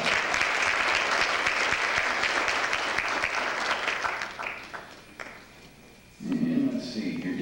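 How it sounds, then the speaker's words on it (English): Audience applause fills the room, steady and fairly loud, then tapers off into scattered claps and a short lull before a voice begins speaking. "let's give her another round of applause"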